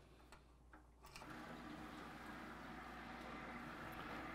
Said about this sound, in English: we just plug it in and you'll hear the motor come on